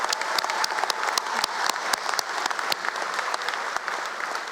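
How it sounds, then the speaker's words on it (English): An audience at a Burlington high school graduation gives sustained applause, a dense and even wash of many hands clapping with sharp individual claps standing out, no talk over it. "Let's give them some applause."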